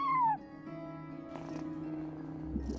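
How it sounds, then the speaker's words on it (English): A cat meows once in the video game Genshin Impact, a short, clear, falling call at the start, followed by quieter tonal game ambience and a faint tap. "No one except for a cat watching over the front desk."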